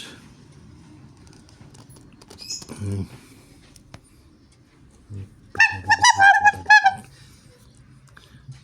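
Geese honking in a short burst of repeated, nasal calls near the end, after quieter rustling and a few faint sounds.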